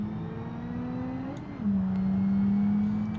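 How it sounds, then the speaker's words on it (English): A supercar in a racing video game drones with a loud, whining transmission, holding a steady pitch before dipping briefly as it shifts and then settling into a louder, sustained whine with no talk over it. "One of them has a really loud transmission."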